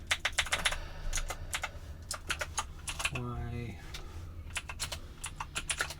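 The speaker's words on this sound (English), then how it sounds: "You're not typing in the right spot." Rapid clacking keystrokes on a computer keyboard, close and fairly loud, in quick irregular bursts with brief pauses, while a voice briefly speaks partway through.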